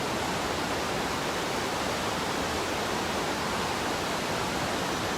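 Tappiya Falls waterfall at Batad in the Philippines, a steady, loud broadband roar of falling water filling the whole stretch without pause and with no voices.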